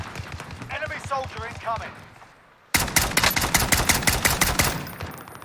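Rapid gunfire from a Type 63 DMR in the video game Warzone starts abruptly midway through and keeps going as a dense run of loud, close shots. Someone talks over the quieter first half.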